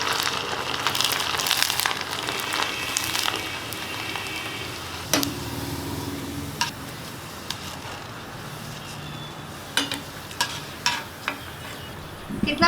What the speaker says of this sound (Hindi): अब हम डालेंगे ये फ्राई करने के लिए।